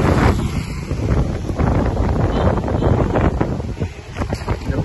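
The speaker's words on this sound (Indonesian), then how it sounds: "Anginnya kenceng nih." Strong outdoor wind buffeting a microphone in front of a Hyundai dealership in Bengkulu, loud continuous rumbling gusts that swell and dip throughout, no clear voices.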